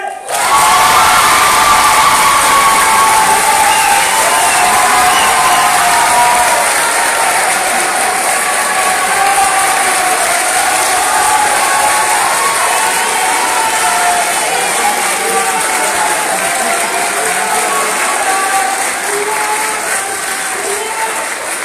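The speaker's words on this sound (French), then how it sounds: "Mesdames et messieurs, veuillez faire un tonnerre d'applaudissements à Monsieur Boulet." Sustained, loud audience applause with cheering fills a hall after an introduction at a university debate and eloquence contest, a dense unbroken roar of clapping that holds steady throughout.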